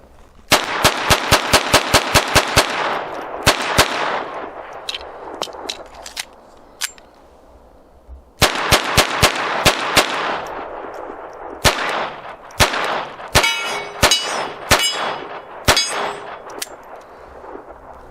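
A Hammerli 1911 pistol chambered in .22 LR fires CCI rounds at a range. Sharp, loud cracks come in quick strings, each ringing with a metallic clang, broken by pauses between magazines.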